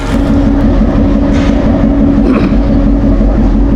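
A train standing at a Bangladeshi railway station, due to depart for Rajshahi, gives off a loud, constant low rumble and hum with a faint metallic clatter over it, heard close and without talk.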